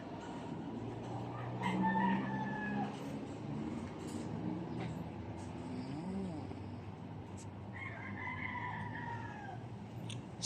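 Roosters crow twice outdoors, once early and once near the end, over a constant low hum of vehicle traffic, with faint bird calls in the background.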